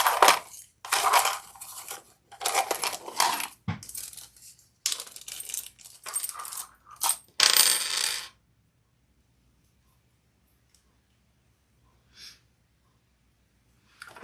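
Metal D-rings for a crossbody bag clink and rattle close by in a series of short jingly bursts for several seconds, followed by near silence.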